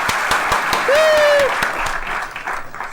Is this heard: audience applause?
yes